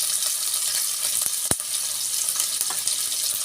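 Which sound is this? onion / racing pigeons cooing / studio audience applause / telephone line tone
onion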